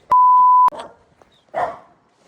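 A sharp electronic beep, then two short, nearby dog barks with a brief pause between them.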